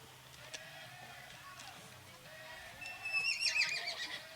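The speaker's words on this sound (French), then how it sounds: "Je sais pas si vous avez entendu hennir le cheval." A horse at a horse competition gives a faint, distant neigh, a short wavering whinny late in the stretch over quiet outdoor ambience with soft background noise.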